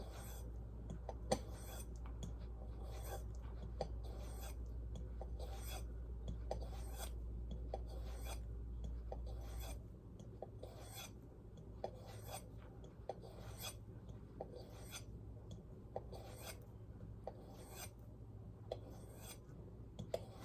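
A pocket knife blade strokes across a black sharpening stone, a steady run of faint, regular scraping passes heard close up, with a low background hum that drops away partway through.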